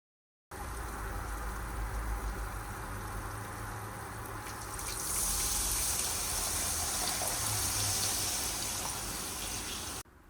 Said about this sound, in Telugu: ఇంకప్పుడు మన చింతపండు రసం కూడా పోయొచ్చు.